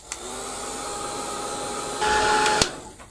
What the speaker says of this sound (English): I just want to give it a quick blast with the heat gun